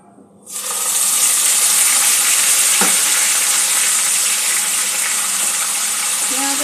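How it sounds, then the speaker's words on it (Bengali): Onion and ginger paste dropped into hot oil with fried whole spices for chole masala bursts into a sudden loud sizzle, then keeps frying with a steady, hissing crackle. "এখানে পেঁয়াজ আদার পেস্টটা দিয়ে দেবো"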